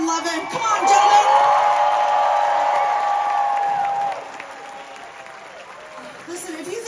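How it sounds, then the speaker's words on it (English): A theatre audience at Resorts World Theatre, Las Vegas, applauds and cheers loudly, with whoops over a steady clapping roar that fades after a few seconds as a voice speaks. "some noise for Brandon and Lovin"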